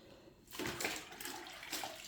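Water splashing onto a rustic brick floor while a Tuscan villa is being cleaned, two faint, close splashes after a quiet start, the second shorter and softer.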